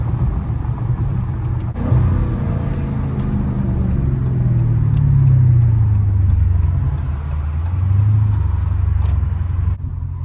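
A Dodge Challenger Scat Pack with the 392 V8 engine, drifting through corners with deep rumbling revs that rise and fall loudly and close, with a sharp jolt near the start.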